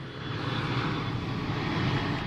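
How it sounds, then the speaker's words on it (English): A jet airplane passes overhead above a golf course in a flight path, a loud, continuous broadband roar that fills the clip evenly, with no voices over it. "we are in the flight path and a jet just flew over"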